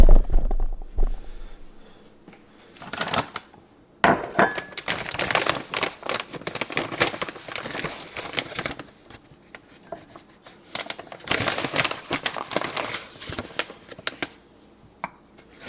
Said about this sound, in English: Put in 2 scoops of collagen.